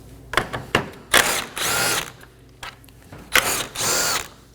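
A power tool drives out 10mm bolts on the upper bumper support of a 2015-2023 Nissan Maxima, several short loud whirring bursts separated by pauses and ratchety clicks, close up with no speech.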